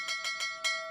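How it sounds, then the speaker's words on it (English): A bell sound effect rings in four bright, evenly spaced strikes, and a clear pitched tone hangs on between and after them. It is loud and close with no talk. "I just like the bell so much."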